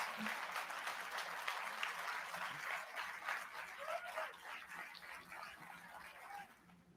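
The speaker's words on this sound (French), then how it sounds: "On va laisser un peu d'applaudissements." A live audience applauds at a talk show taping, sustained clapping of moderate loudness over several seconds, with a few brief voices and shouts mixed in.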